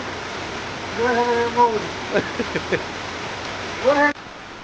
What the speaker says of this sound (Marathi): एवढं तुफान पाऊस पडता